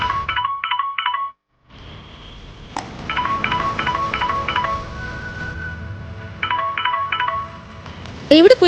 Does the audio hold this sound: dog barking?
no